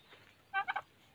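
A male turkey gives one short, clear gobble, a quick rattling burst of a few pulses, moderately close against an otherwise quiet background.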